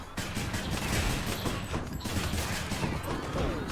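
Many bombs burst in the video game Hades, a dense, continuous crackle of overlapping explosions with no pause.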